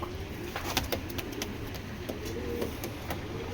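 A racing pigeon coos softly in a loft, a few low murmuring calls under steady background hiss, with light tapping clicks around it.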